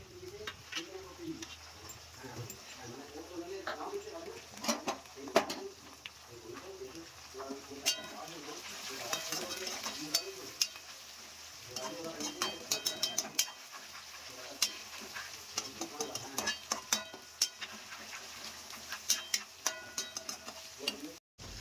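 Chicken cooked with little spice and stirred in a pan as tomatoes and chilies go in, giving a soft sizzle with scraping stirs, faint and steady, while birds coo in the background.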